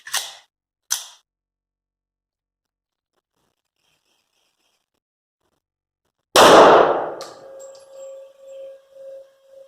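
A Caspian 1911 pistol fires one loud, close shot that rings out and decays with metallic echoes, after two brief sharp clicks and a stretch of silence.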